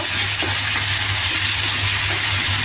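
Onions and green chilies fry in a pan with a loud, dense, continuous sizzling hiss, close by and with no speech.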